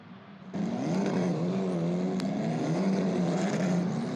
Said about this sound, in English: Alex Dunn lifts the visor, lights up the rear Pirelli tyres